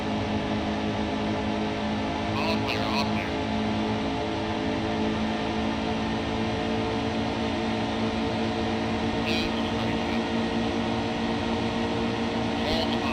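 A race truck engine at Texas in NASCAR Heat 2 career mode, driven with the throttle lifted. It gives a steady, continuous droning hum with a few brief higher whines, holding level the whole time.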